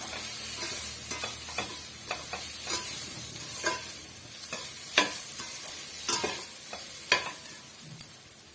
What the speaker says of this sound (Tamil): மீடியமான ஃப்ளேமில் வச்சு அந்த ஈரப்பதம் போகிற வரைக்கும் நம்ம இதை வதக்கி விட்டுடலாம்